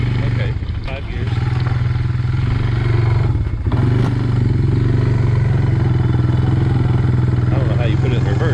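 A previously abandoned Honda Fourtrax 300 ATV engine idles steadily and close with a low throbbing drone and some clattering, dipping briefly once, while someone talks over it.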